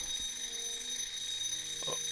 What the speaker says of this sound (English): okay, there goes our timer.